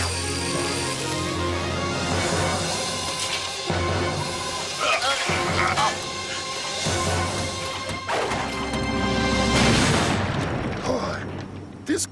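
A loud, sustained explosion blows up a ship in an animated RoboCop series, with crashing, smashing debris and deep booms rolling on for the whole stretch, swelling again near the end.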